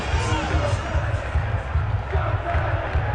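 A huge crowd roars and chants at Tottenham Hotspur's Europa League victory parade outside the stadium, greeting head coach Ange Postecoglou with loud, rhythmic cheering and pulsing chants, while a commentator's voice runs over it.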